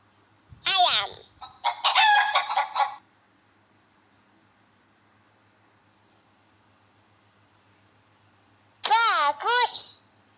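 Rooster crowing in a children's educational animal game, two clear crows separated by several seconds of near silence, loud and close with no talk over them.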